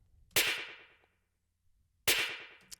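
A snare drum sample layer carrying the high end and crack, two bright, snappy, metallic hits a little over a second apart, each decaying quickly into silence, with no talking.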